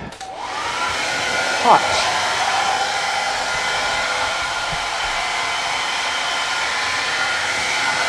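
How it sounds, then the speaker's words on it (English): A hair dryer blows steadily up close on warm, drying a solarplate photogravure print, with a constant whirring rush of air, and a brief word is spoken near the start. "And then you go to a little bit warmer process with the hair dryer."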